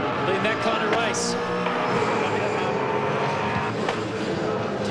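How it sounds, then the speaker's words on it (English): V8 Supercars race cars pass on the final lap of race 1 at Eastern Creek, their engines a steady loud roar close by, with a commentator's voice talking over the noise. "Second and third come past now for the final lap of race 1"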